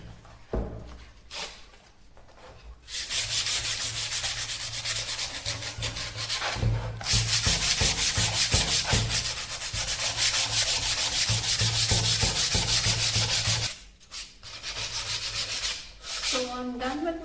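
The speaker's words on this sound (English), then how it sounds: "See, I'll do more sanding." Sandpaper rubs steadily over painted wood being distressed, a loud continuous scratchy rasp in long strokes that runs for most of the stretch, with short pauses near the start and end.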